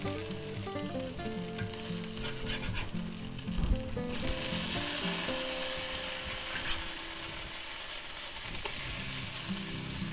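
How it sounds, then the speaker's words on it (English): Bell pepper cakes frying in a pan after being flipped, a dense steady sizzle and crackle of oil heard up close and alone, with a brief knock partway through. "Now we'll let them cook on that side for a little bit."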